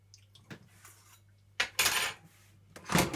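A mixing bowl is moved and set down on a kitchen counter, giving a few clinks and clattering knocks of dish and utensils against the surface, close and moderately loud.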